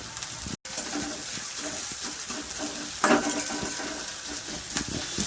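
Thinly sliced onion fries in a pan, a steady crackling sizzle with stirring scrapes, a brief dropout early on and a louder hissing burst midway, while pigeons coo faintly in the background.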